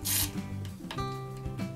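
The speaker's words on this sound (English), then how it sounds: "grab the same drill bit that I drilled the hole with and try to see if I can just shave down" Drill bit held by hand and rubbed along the side of a drilled hole in a wooden board to shave it down, giving a few close, rough rasping strokes with a brief scraping screech at the start.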